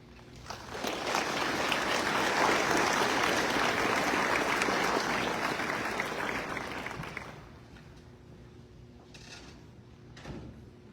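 Audience applause at a white coat ceremony, a large crowd clapping that swells within a second, holds strong for several seconds, then thins out to a few scattered claps and quiet room noise.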